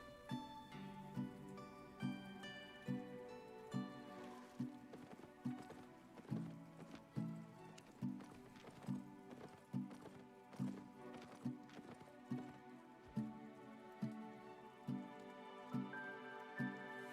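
Horse hooves clip-clop in a steady, even rhythm in a video game, continuing at moderate volume for the whole stretch over a layer of game music, with no talking.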